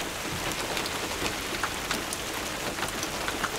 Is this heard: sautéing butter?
no